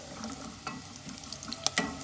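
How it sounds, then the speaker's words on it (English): Curry leaves sizzle as they are dropped into hot oil for a homemade chicken curry. The frying hiss is steady and fairly close, with brief stirring scrapes and a sharp pop near the end, and no voices. "So guys, at the moment, I'm going to put in my curry leaves"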